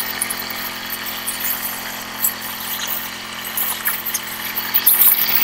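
A digital bike-washing spray machine runs with a steady droning hum, joined by hissing spray bursts that grow louder toward the end, with no talk.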